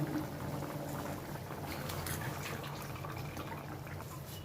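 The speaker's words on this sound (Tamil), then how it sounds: "நல்லா கொதிச்சிருச்சு" A pot of curry bubbles steadily at a rolling boil, a dense continuous simmer of popping and gurgling close by, with no voices.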